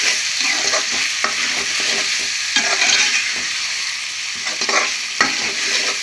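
Prawns frying in a pan with a steady, close sizzle and spatter, punctuated by occasional sharp scrapes and taps as they are stirred, fairly loud throughout.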